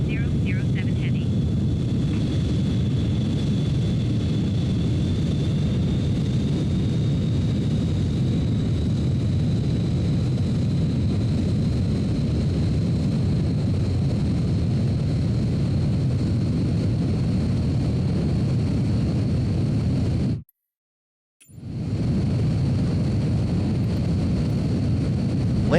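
Concorde jet engines roar steadily with a broad, constant rush throughout a landing in Microsoft Flight Simulator, loud and continuous with a thin whine on top and a brief dropout near the end, while a voice talks over it.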